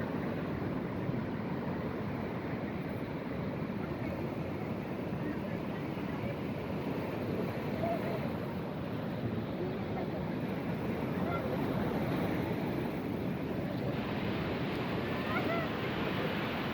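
Indian Ocean surf at Lampuuk beach in Aceh rushes in a continuous broad wash, with wind buffeting the microphone and no distinct breaks between waves.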